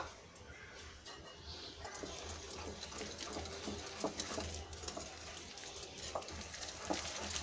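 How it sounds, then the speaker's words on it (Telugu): Wheat flour cake batter with powdered sugar being stirred into a smooth paste, giving a soft, steady scraping and mixing texture at close range with faint background hum and no talk. "మొత్తం ఇట్లా చక్కగా స్మూత్ పేస్ట్ లాగా మనం దీన్ని కలుపుకుందాం."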